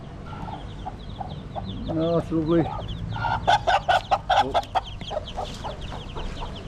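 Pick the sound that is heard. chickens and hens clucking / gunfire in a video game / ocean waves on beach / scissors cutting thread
chickens and hens clucking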